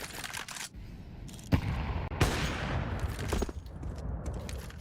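Bursts of gunfire in a Counter-Strike 2 esports match at the PWE CS2 EU RMR A 2024 between Passion UA and VP, with several sharp shots and short volleys over a constant game-sound bed, mid-loud.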